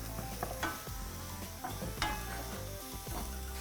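Loosely chopped oyster mushrooms fry in a hot pan with a steady sizzle, punctuated by several clattering stirs and scrapes, close and fairly loud, with no voices.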